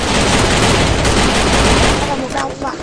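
Dense, loud gunfire from the Free Fire mobile battle game, sustained bursts that fill the whole clip before briefly easing off at the end.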